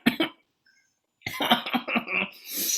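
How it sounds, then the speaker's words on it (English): Close coughing fits from a woman who has just been laughing: two quick coughs, a pause of near silence, then a longer run of harsh, repeated coughs with breathy wheezing at the end. "You made me laugh, and now I can't stop coughing."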